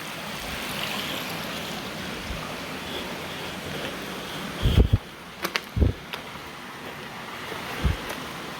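Creek water runs steadily beneath an abandoned flour mill in Pennsylvania, a continuous broad rushing wash with a few brief low thumps and knocks partway through, no talking.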